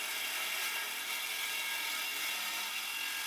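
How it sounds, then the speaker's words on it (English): A saw plunge cutting a window opening into a panel for a sliding CNC enclosure on a Shapeoko Pro XXL, a steady high-pitched whining cut held at constant loudness throughout, with no talking. "I'm going to use the saw to plunge cut in there and cut that out."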